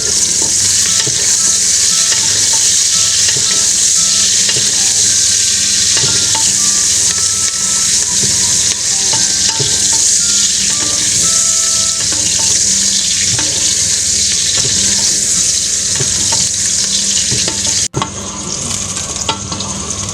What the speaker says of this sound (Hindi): मैंने ऑयल डाला था गर्म हो जाए, तो गर्म हो गया, प्याज डालते हैं।